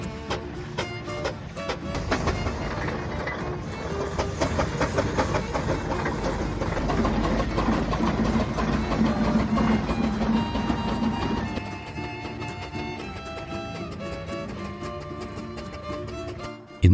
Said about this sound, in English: In this footage, we face true road-going heavyweights, the Fowler and Burrell traction engines.